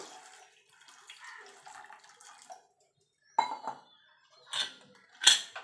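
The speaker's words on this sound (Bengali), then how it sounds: "একটা প্রেশার কুকার নিয়েছি প্রেসার কুকারে দিয়ে দেবো আমি প্রেশার কুকারে করছি আপনারা চাইলে এটা কড়াইতেও সিদ্ধ করে নিতে পারেন এবার জল দিয়ে দেবো" Water is poured into a metal pressure cooker to boil jackfruit seeds, with soft splashing at first, then a pause, then sharper sloshing bursts and clinks near the end, close and quiet.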